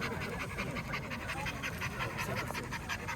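A Russian-European Laika dog pants rapidly and steadily up close at a dog show, quick rhythmic breaths continuing throughout.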